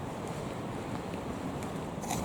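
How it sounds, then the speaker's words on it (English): Freezing cold wind blowing outdoors by the water, a continuous low rumbling buffet against the microphone with no pauses, close and steady throughout. "I'm not overly happy to be in this freezing cold wind here"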